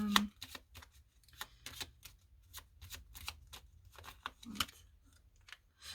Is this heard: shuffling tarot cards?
yes